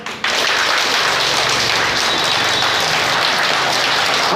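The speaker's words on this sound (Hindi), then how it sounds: "तो भक्तों, अब तुम लोग एक बार इतनी जोर से ताली बजाना कि तुम्हारे हाथ में खुजली होने लगे।" A crowd of devotees at a temple gathering claps loudly and steadily, a dense, sustained wash of applause that starts abruptly and keeps going without a break.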